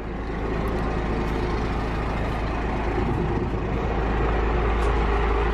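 A used dump truck's engine idles through its muffler, a steady, loud low rumble that drones on without a break.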